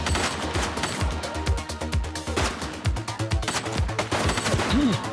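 Rapid bursts of gunfire from the video game The Precinct, loud and close, firing in dense repeated volleys throughout, with a brief whooshing or siren-like sweep near the end.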